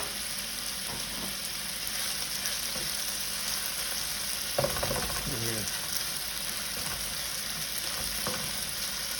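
Macaroni and egg fry in a hot, salted pan with a loud, continuous, close sizzle and a few brief scraping stirs midway.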